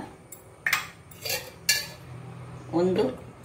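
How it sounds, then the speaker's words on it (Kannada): A frying pan is set down on a kitchen stove, giving several sharp metallic clanks and scrapes spaced over a few seconds, close and clear, with no talk. "ಈಗ ಇಲ್ಲಿ ಇದನ್ನು ಬಾಣಲೆಯನ್ನು ಇಟ್ಕೊಂಡಿದ್ದೇನೆ"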